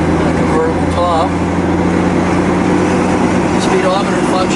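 Steady engine hum from a running 1965 Ford Mustang convertible on the road, a constant low drone heard from inside the car with faint squeaks over it.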